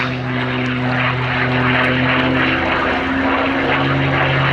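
A P-51 Mustang with a Packard-built Merlin engine at the Little Gransden air show gives a loud, steady propeller drone that holds without a break, with no voices.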